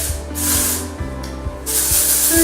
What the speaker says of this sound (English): Shake, spray, style, be beachy.